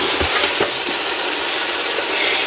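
Goat and beef trotters (paya) frying in a pan, a loud steady sizzle with a few scraping stir sounds near the start, close and continuous with no talk.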